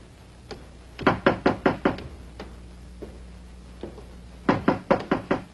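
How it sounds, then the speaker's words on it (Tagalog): Two bursts of rapid knuckle knocks on a door, about six sharp raps each, close and clear with a short pause between them and no voices. "May kumakatok"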